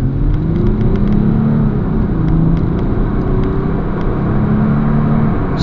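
A 2011 Jaguar XF 3.0 V6 automatic pulls hard from a standstill, its engine loud and steady with smooth rising tones through each gearshift, no talk over it.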